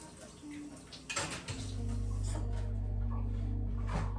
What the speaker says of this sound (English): so we're gonna rinse off each part really well